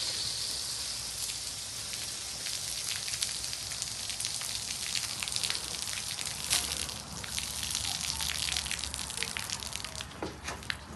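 Water drains from a coiled garden hose that has its sprayer off and its spigot shut as the hose contracts, making a faint, steady hiss and trickle with no one talking.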